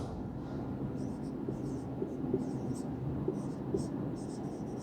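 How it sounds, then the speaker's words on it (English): A pen scratches across paper in short strokes, faint and close, under a steady low background hum. "firstly we are supposed to write down the year"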